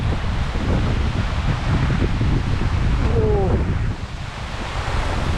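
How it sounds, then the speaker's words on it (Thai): Strong wind gusting outdoors, a loud continuous roaring rush with buffeting across the microphone, briefly easing near the end before picking up again. "โอ้ลมแรงแรงเลยพี่น้องเลย"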